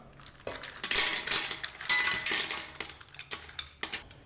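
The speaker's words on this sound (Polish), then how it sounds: "Na rozgrzaną oliwę wrzucamy wcześniej opłukane i delikatnie osuszone mule" Mussels clatter and clink in quick bursts as they drop into a metal pan of hot olive oil, a close, rattling tumble with a faint sizzle underneath.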